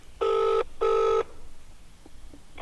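An outgoing phone call placed through Siri gives two long electronic rings in quick succession, loud and clear, followed by quiet background room noise.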